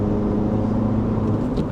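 MINI Cooper R56 accelerating with a steady turbo induction whir and engine drone heard from inside the car, loud and continuous over a short stretch.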